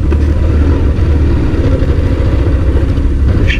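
A motorcycle engine idles close by, a loud, steady, rumbling chug with slight clatter running unbroken throughout.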